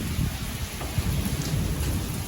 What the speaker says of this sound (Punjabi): ਆ ਦੇਖੋ ਬਲਬਲੀਆਂ ਵਾਲਾ ਮੀਂਹ ਪਈ ਜਾਂਦਾ ਜੀ